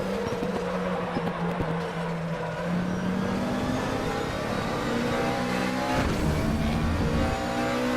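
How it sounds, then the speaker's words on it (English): Race car at Silverstone braking into and powering out of a corner: a constant loud engine roar with the pitch dipping and then climbing under full throttle, heard from close by. "hairpin like Lewis Hamilton does and then full throttle for the Woodgate corner."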